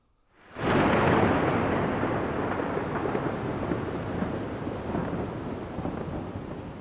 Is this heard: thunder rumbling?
yes